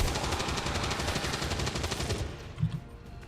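Rapid automatic gunfire from a soldier in the strategy video game XCOM 2 rattles loudly in a dense burst for about two seconds, then cuts off, leaving a brief thump and fading echo.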